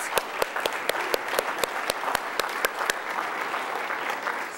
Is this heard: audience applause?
yes